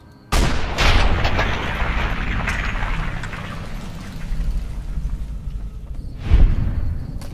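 Gunshots in Fallout: New Vegas: a loud sharp report with a rumbling tail, a second shot soon after, then a final boom several seconds later, with no talking.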